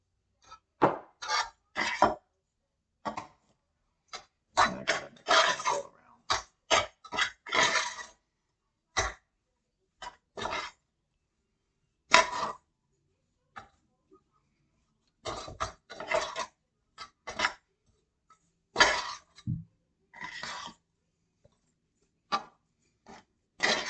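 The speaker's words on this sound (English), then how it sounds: "The cheddar gets mashed up into the potatoes" Intermittent clinks and knocks of a utensil against a pot as cheddar is mashed into potatoes for shepherd's pie, irregular bursts of scraping and tapping separated by quiet pauses.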